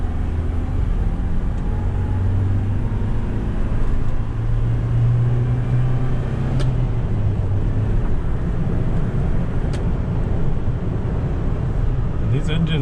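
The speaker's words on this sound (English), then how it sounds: "These engines really scream. They rev really high." Gas 1.8 engine of a 1988 Toyota Hiace rear-wheel-drive fire truck revving high on a test drive, a loud steady drone heard from inside the cab.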